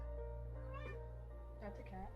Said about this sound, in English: That's a cat. That's a cat.